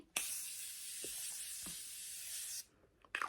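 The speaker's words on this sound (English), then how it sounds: "the Morphe Continuing Mist Setting Spray" A long continuous spray hiss from a mist bottle lasting over two seconds, fairly faint, followed by quiet and a few small clicks.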